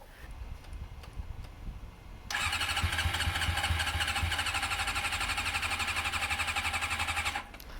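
A motorcycle engine starts after a quiet stretch of background noise, then runs steadily at a fast, even idle as it warms up, loud and close, before cutting back at the end.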